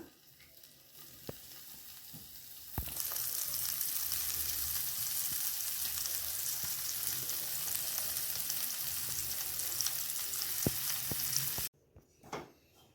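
Loud, steady sizzling of chopped capsicum frying in hot oil, starting abruptly after a quiet moment and cutting off near the end.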